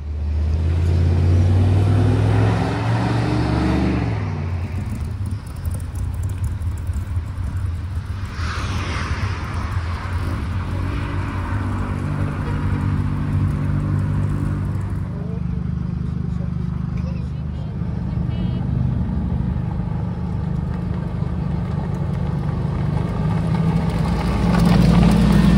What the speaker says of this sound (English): Late arrival, but the Skyline's just turned up.